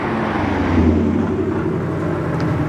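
A car drives past close by, its engine rumble swelling and then fading over a couple of seconds.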